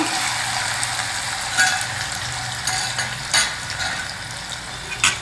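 Yam pieces frying in hot oil make a steady, hissing sizzle, with occasional sharper clinks and pops heard up close.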